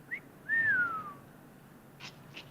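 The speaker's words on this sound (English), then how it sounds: "That guy whistled." A man gives a short rising-falling whistle, loud and clean against a quiet background, with a tiny chirp just before and a couple of faint brief noises afterward.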